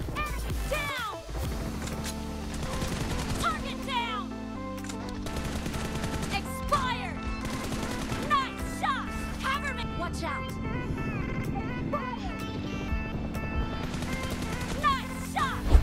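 Gunfire in a BGMI 8v8 team deathmatch on a OnePlus phone, steady automatic bursts and scattered shots layered under continuous game music and effects, mid-level throughout.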